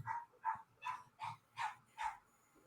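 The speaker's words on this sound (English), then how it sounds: "There's a dog." A dog barks six times in a steady series, each short woof evenly spaced, at moderate distance and fairly quiet, with no talk over it.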